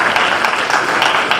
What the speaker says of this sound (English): give a round of applause to Mayor Rogers because he's done a great job